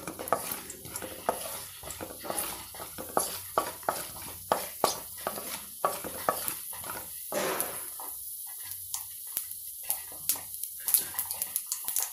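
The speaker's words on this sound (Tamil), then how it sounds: "சிறிதளவு கடுகு பொரியணும்" Mustard seeds splutter in hot oil while tempering for a peanut chutney, producing a rapid series of crisp pops and crackles over a low hiss, close and fairly quiet.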